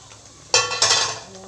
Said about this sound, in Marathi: आता आपण हे एकदा झाकण काढून बघू